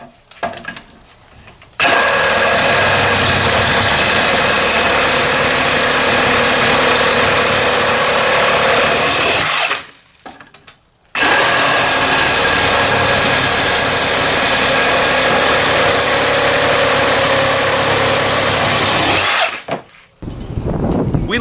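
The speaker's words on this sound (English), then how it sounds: "I'm going to use the M18 FUEL to slice right through this pressure-treated 4x4 post." A Milwaukee M18 FUEL cordless Sawzall with a pruning blade cuts through a pressure-treated 4x4 post. It makes two long, loud, close bursts of steady buzzing reciprocating sawing, separated by a brief pause, and then stops.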